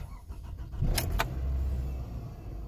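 A 2007 Toyota Camry is switched on: two sharp clicks from the ignition, then a low, even engine rumble that settles in close by.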